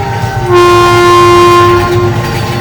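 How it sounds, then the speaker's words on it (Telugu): A train horn blares loudly over the heavy rumble of a fast-moving train, sustained for a couple of seconds. "రైలు చాలా వేగంగా వచ్చింది"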